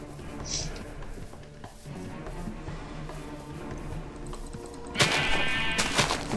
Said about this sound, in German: Da sind noch Schafe, gut.